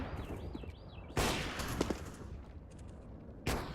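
Mag 7 shotgun blasts in an esports video game, with two loud, sharp booms spaced apart over quieter game ambience and a wavering electronic tone.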